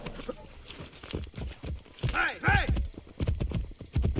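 A horse gallops in Assassin's Creed Brotherhood, its rhythmic hoofbeats clopping under a voice talking over the game, with a brief whinny-like cry rising partway through.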